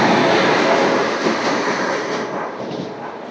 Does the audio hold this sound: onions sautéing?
no